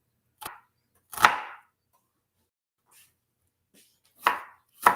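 Onions being chopped with a knife during Thanksgiving prep: a few sharp, isolated blade strikes against a cutting board, close and distinct, spaced irregularly with silence between and two faint taps in the middle.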